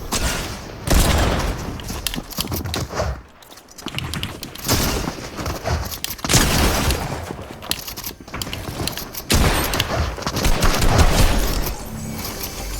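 Rapid sniper and rifle fire in a battle-royale shooter game, with bursts of gunshots spread across the clip, some loud and close, set among clattering mechanical game sounds.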